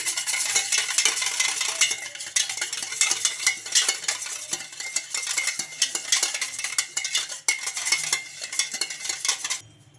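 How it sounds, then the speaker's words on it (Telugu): A spoon scrapes and clinks rapidly against a bowl, stirring yogurt and salt together in steady strokes, close and busy, with no talking. "ఈ పెరుగు ఉప్పు బాగా కలిపేసుకోవాలి"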